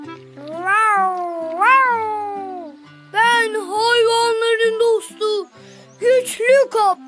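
A cartoon cat meows in a series of drawn-out, high, childlike cries, close and clear, with pauses between them and a cartoon voice speaking alongside.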